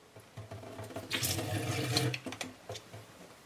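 Water is forced hard through a Sawyer Mini filter during backwashing, heard as a faint, close hissing spurt lasting about a second, bracketed by quiet taps and handling sounds.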